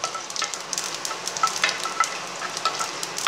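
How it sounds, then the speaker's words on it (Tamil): Chana dal roasts in oil for ragi upma while a spoon stirs it, making a soft continuous sizzle broken by repeated scraping strokes. The sound stays close and moderate, with no voices. "நல்லா கடலைப்பருப்பு கொஞ்சம் நேரம் செவக்க வந்து கொடுத்தோம்."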